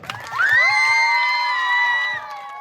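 A crowd at a children's summer camp erupts in loud, sustained cheering and shouting, voices rising together and holding for a couple of seconds before tapering off.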